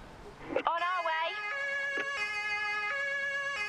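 A wailing emergency vehicle siren in the game Emergency 4 cycles through steady electronic tones after a brief burst of noise, loud and close, holding a repeating two-pitch pattern.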